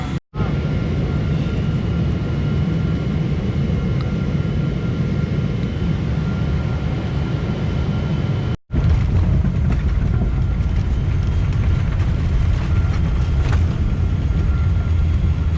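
An airliner touches down in Japan, heard from inside the cabin as a loud, steady engine and airframe roar. The roar drops out briefly near the middle, then resumes slightly stronger.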